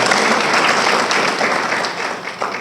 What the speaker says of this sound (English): If y'all help me give them a round of applause for their entertainment